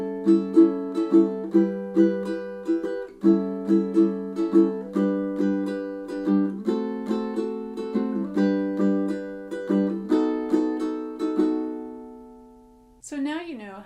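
A ukulele strums two lines of a standard at a steady 140 beats per minute, bright chords repeating in an even rhythm, ringing close and clear with no talking, before a brief voice enters at the very end.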